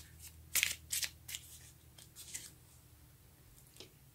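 Tarot cards shuffled by hand, a few quick crisp riffling bursts close up, then softer scattered flicks and card snaps against a quiet low hum.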